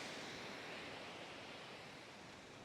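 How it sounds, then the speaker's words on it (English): Steady, broad rushing of surf on a Dominican Republic beach just after rain, constant and enveloping with no distinct breaks, fairly soft overall. "hear the waves"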